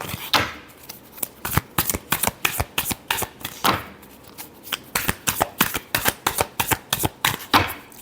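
Tarot cards being shuffled by hand in a quick series of crisp riffling slaps and flutters, close and fairly loud, with brief pauses between bursts and no talking.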